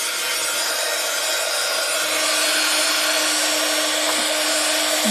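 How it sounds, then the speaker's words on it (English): A heat embossing tool runs steadily for the whole stretch, a loud, continuous blowing hiss with a faint hum beneath, as it heats and melts embossing powder for an emboss resist background. "I'll find my heat tool."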